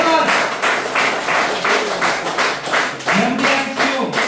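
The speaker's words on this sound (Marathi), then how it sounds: "एकदा जोरदार टाळ्या वाजवा." A seminar audience claps loudly in a quick, steady rhythm of sharp hand claps, close and continuous, with a voice briefly rising over it near the end.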